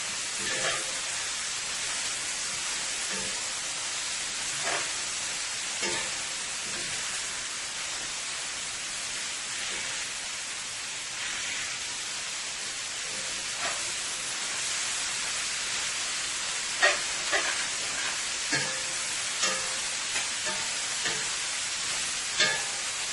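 Beef, cabbage and vegetables stir-frying in a pan, a steady close hiss and sizzle running throughout with a few soft clicks of stirring.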